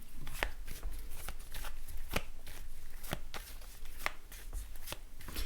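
A Modern Witch Tarot deck is shuffled by hand, with crisp, rapid riffles and snaps of the cards in irregular bursts, close and fairly soft, with no talk.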